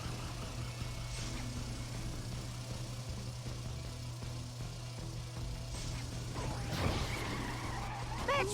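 Kart engines hum steadily in the Ben 10 Galactic Racing video game, with tire skids and a louder crash burst near the end, all mixed under continuous game audio.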